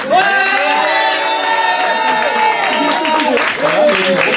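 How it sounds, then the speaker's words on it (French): A live radio studio audience claps and cheers loudly, the noise layered under steady music with sustained tones, full and close throughout. "Moi j'aimerais bien savoir s'ils peuvent applaudir, faire du bruit."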